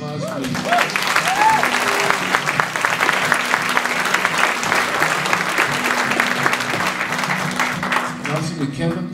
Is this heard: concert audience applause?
yes